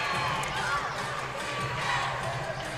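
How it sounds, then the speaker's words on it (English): A crowd at the 2022 IHSA competitive cheerleading small/medium state finals shouts and cheers a team's name. The roar is steady, dense and continuous, with individual voices rising out of the din. "You can already hear the crowd shouting their name."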